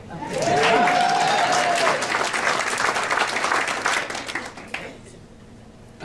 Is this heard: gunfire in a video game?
no